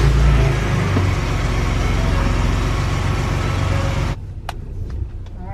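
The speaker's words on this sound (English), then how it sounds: "We're gonna go ahead and turn the truck on" A Ford Raptor pickup truck engine runs loud and close with a low rumble for about four seconds, then drops away to quieter background noise.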